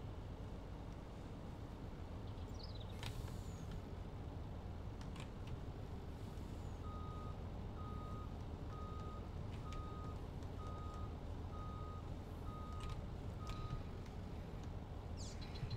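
A truck reverses in Farming Simulator 19, its backup alarm sounding a steady run of evenly spaced beeps over a constant low engine rumble and wind-like noise.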